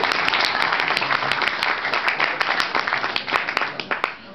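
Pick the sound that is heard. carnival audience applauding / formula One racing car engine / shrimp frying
carnival audience applauding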